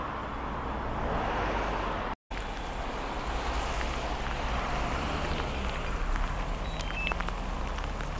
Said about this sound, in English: The rain is coming down quite heavily now